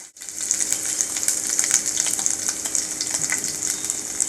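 Curry leaves drop into hot oil with a sudden loud hiss. A vigorous, continuous sizzle and crackle follows and holds steady to the end.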